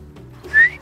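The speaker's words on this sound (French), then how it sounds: "pour dire bonjour, il suffit de siffler un peu et après de faire comme ça" A person whistles to greet giraffes: a short, bright, slightly rising whistle near the end, close and alone against quiet background.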